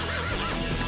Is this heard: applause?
no